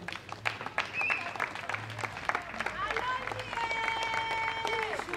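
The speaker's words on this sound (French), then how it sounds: "Si vous pouvez acclamer pour eux" Wedding guests applaud the newly married couple with steady, broadband clapping throughout, while a voice speaks briefly above it and faint music tones drift in the background.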